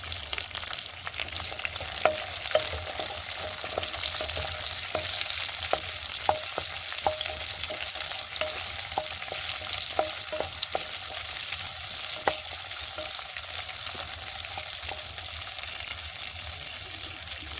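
Green beans with potato sizzle steadily in hot oil in an Odia home kitchen wok, with a spatula clicking and scraping against the metal at irregular intervals throughout, close and continuous.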